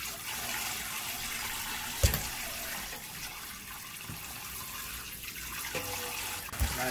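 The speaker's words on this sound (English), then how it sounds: "So now we're washing the catfish." Fresh catfish being washed under running water, a steady splashing wash of water with a couple of sharp clunks, close and continuous with no talking.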